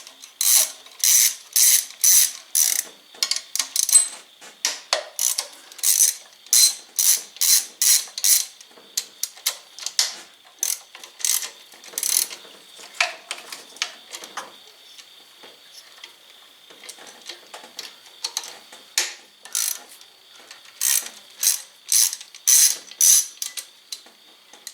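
A ratchet clicks in rapid bursts of sharp ticking while loosening 10mm fuel rail bolts on a 2016 Ford Escape 1.6 EcoBoost engine, with short pauses between strokes and a few quieter stretches.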